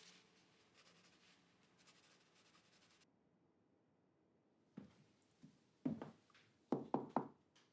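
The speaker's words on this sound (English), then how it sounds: "Thanks for knocking" Knocking on a door in a disaster film: after a stretch of quiet room tone, a few soft taps, then two close groups of firm knocks, loud and distinct with no voices.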